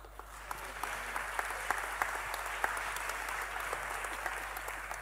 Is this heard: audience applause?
yes